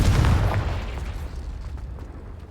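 A Confringo blasting spell explodes in the video game Hogwarts Legacy, one loud booming blast at the start that rumbles and slowly decays, no talking.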